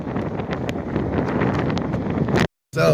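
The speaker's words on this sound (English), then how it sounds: "The wind is shifting so hard that it's rocking my van" Strong blizzard wind in Nebraska buffets a van with a constant heavy rumbling roar and gusty rustling, loud and close, broken by a short drop to silence near the end.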